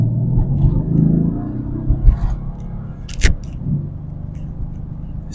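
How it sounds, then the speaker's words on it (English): Mercedes-AMG C63s engine, a deep low rumble with a few swells in level and a brief sharp transient partway through, heard up close inside the car without talking. "The sound of this car."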